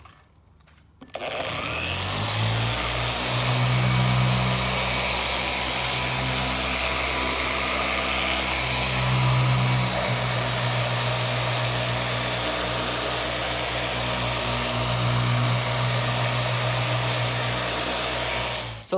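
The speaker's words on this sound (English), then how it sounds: "we're going to start this machine off at speed 2" A Maxshine M15Pro car polisher switches on at speed 2 and runs steadily at close range, a constant loud whirring drone with slight periodic swells from pressure or tilting that lasts nearly twenty seconds.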